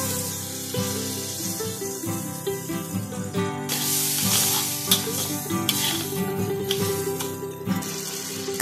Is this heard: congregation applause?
no